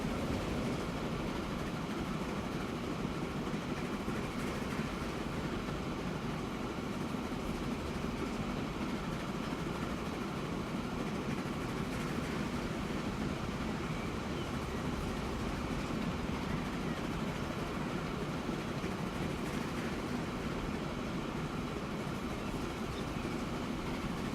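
A freight train in the video game Transport Fever, hauling construction materials, makes a steady rumbling roll with faint rail clatter throughout, constant in level and without any clear beginning or end.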